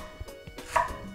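Knife slicing thinly through red cabbage on a cutting board, a few quick, soft cuts close up and alone.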